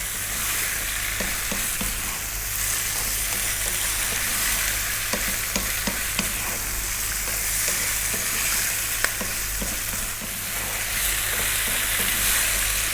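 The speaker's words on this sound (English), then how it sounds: "just turn in the new ingredients into the tomatoes, onions, garlic, turmeric and the chili" Fish and prawns being stirred into a sizzling mix of tomatoes, onions, garlic, turmeric and chili for a seafood coconut curry, with steady frying hiss and repeated spoon scrapes throughout, close and without talk.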